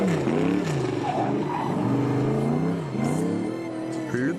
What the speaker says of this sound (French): Bon, on va au drift? Trop de grip, la Cobra.